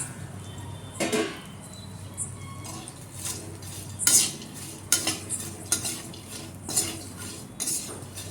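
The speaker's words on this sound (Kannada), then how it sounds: "ಫ್ರೈ ಮಾಡಿಟ್ಟಿರ್ತ ಸಾಬ್ದಾಣಿ ಏನಿರ್ತಾವಲ್ಲ ಅವು ಹಾಕ್ಕೊಂಡು ಚೆನ್ನಾಗಿ ಮಿಕ್ಸ್ ಮಾಡ್ಕೋಬೇಕು ಎಲ್ಲನೂ." Fried sabudana chivda being stirred and mixed in a metal pan or bowl, with repeated spoon clinks and scrapes against the metal over a soft background hiss.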